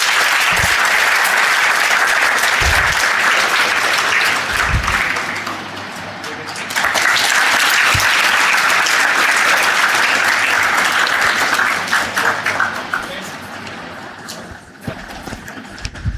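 Loud, sustained applause from a large audience at an HR leadership summit during a felicitation on stage, continuous clapping that dips briefly midway before swelling again, then tapers off near the end with a few low thumps.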